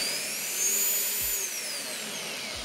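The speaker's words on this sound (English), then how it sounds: "If I hold down the speed down button and the power button, the machine will start again in that low setting." A Fein magnetic drill running alone at steady speed, a loud continuous high-pitched motor whine with a slight pitch rise and fall, with two faint low thumps.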